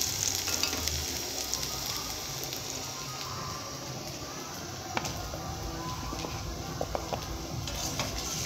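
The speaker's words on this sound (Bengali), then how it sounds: "আলু পটলগুলো ভালো করে ভেজে নিয়েছি" Potatoes and pointed gourd frying in a pan, making a continuous soft sizzle with occasional sharper crackles and spatters, at moderate-to-low volume.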